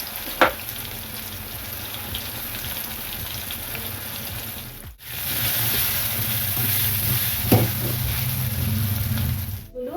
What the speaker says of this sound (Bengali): আলুগুলো ভেজে নেবো নুন হলুদ দিয়ে